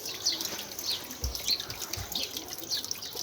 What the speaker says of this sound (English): this is how the water is delivered onto the water wheel